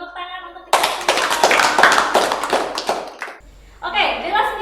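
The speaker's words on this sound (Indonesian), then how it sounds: "Oke, tepuk tangan untuk kita semua." A group of students and staff at an Islamic boarding school event applaud together, a dense burst of hand claps lasting a few seconds before it stops and a voice starts talking.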